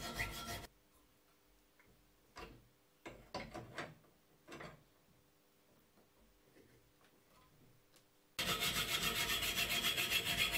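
A metal profile being cut with a hand saw, blade cooled with water and guided by an angle bracket: a few short, separate rasping strokes at moderate distance, then a sudden loud, dense scraping burst of steady sawing near the end.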